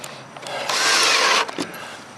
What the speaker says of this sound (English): I'm going to start some screws so it'll be easier on me underneath the rail there,